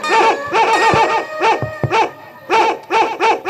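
A man imitates a dog with his voice in a Hindi comedy stage play on literacy, giving several loud, close bursts of yapping barks in quick groups with short pauses between them.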